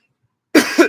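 A single close, loud cough comes after silence, rough and double-pulsed.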